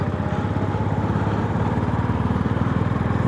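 A motorcycle engine running steadily after its sprockets were cleaned, with an even, rapid low throb at close range and no talk over it.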